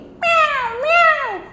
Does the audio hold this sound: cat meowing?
yes